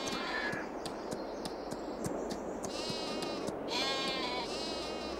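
Sheep in the video game Farming Simulator 22 bleat repeatedly at a moderate distance, with several overlapping calls over steady farm ambience and faint rhythmic ticking.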